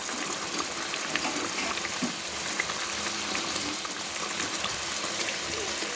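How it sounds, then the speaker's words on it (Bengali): Fried potato and cauliflower pieces drop into a bubbling sour fish gravy, which gives a steady, dense sizzle and hiss throughout with no pauses. "ভেজে রাখা আলু ফুলকপিগুলো দিয়ে দিলাম।"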